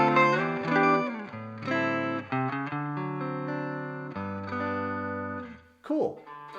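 An electric guitar preset rings out through a wireless travel amp in sustained notes and chords, with a thin, distorted tone and a short noisy slide near the end.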